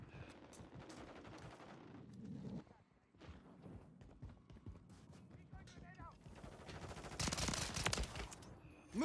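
Rapid bursts of gunfire from a camouflage-challenge game, with sharp repeated shots and a loud flurry near the end, mixed with shouting voices and scuffling movement.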